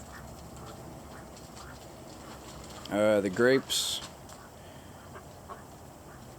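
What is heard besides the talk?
ducks quacking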